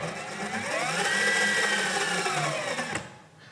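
An Actsafe ICX power ascender motor whirs loud and close, its pitch rising as it speeds up from a slow start, then holding steady before it cuts off abruptly near the end.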